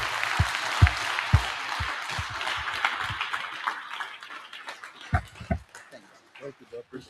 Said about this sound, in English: y'all want to give him another round of applause?